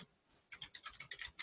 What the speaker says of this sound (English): you can start typing it